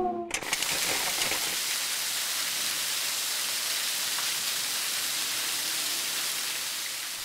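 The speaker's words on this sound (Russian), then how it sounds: "Дождь во Вьетнаме всегда начинается неожиданно и льет, как видите, шумной стеной." Heavy rain pours in Vietnam as a steady, dense hiss like a wall of water, continuous and fairly loud throughout, with no voices over it.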